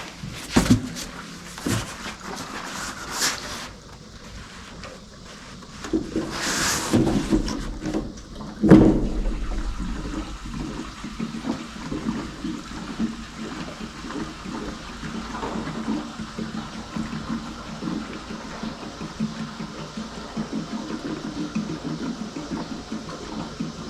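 Gasoline draining from the leaking fuel tank of a John Deere G tractor: a few knocks and clunks early on, then a faint, continuous trickling flow that runs on steadily, with no one speaking.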